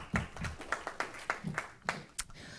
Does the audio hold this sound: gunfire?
no